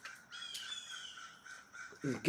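Several crows caw repeatedly at a moderate distance, harsh calls overlapping, with a brief rustle at the end.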